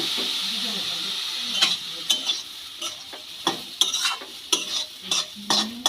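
Semolina upma being stirred in a pan after water is added, with a steady frying hiss and repeated scraping strokes of a spoon against the pan, close and moderately loud.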